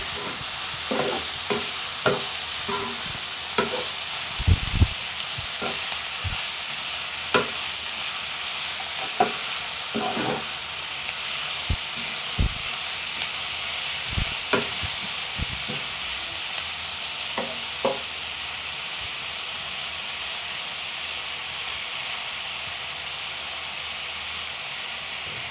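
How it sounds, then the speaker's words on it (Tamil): Chicken pieces and tomato fry and sizzle in a pan at home, with a steady hiss under repeated scraping stirs that fade out partway through. "தக்காளியை போட்டுட்டு நாங்கள் சிக்கனையும் அதுக்குள்ளே அப்படியோ போட்டு சிக்கனையும் போட்டு அப்படியே ஆட் பண்ணால்"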